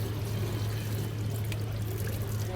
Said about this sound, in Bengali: ডিমগুলো সবগুলো আমি ধুয়ে পরিষ্কার করে রেখে দিচ্ছি